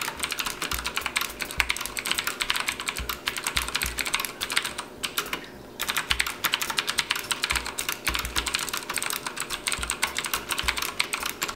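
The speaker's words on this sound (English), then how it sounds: "the blues have very tactile feedback and a lot more of a clicky sound" Blue clicky switches on a Perixx PX-5200 mechanical gaming keyboard clatter under fast, continuous typing, a dense stream of sharp close-up clicks with one brief pause midway and no talking.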